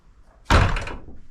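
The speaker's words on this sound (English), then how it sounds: "door keeps slamming." A home door slams shut with a single loud, close thud that rings out briefly and then fades.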